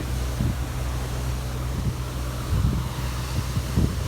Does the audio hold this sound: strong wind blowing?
yes